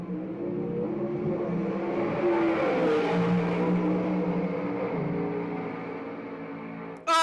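Studebaker gasser hot rod, all steel, drag racing at Kilkare Dragway in Xenia, Ohio: a loud engine roar that builds and then fades as the car runs down the strip, cut off abruptly at the end.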